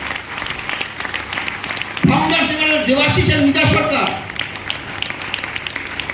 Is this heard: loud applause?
yes